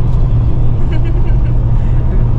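Caravan tow vehicle driving, a loud, steady low engine and road rumble from inside the cabin, with a voice speaking over it.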